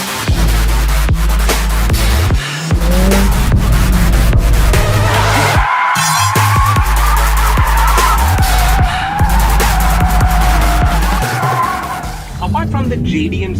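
A Mercedes-AMG A 45 S 4MATIC+ in drift mode slides with loud, sustained tire squeal over a revving engine, the screech rising and falling across several passes, close and dominant.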